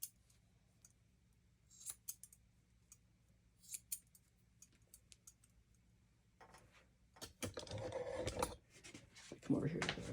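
Scissors snip at the base of a dog's ear during grooming, a few faint, sparse clicks over a quiet low hum before louder rustling and handling noise takes over near the end.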